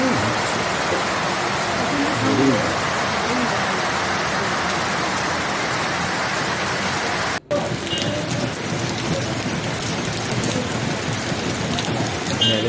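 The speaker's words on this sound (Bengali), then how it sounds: "না, এখন তো বৃষ্টি পড়ছে।" Steady rain falls heavily in Darjeeling in a continuous hiss, pattering on surfaces close by, with faint voices in the background.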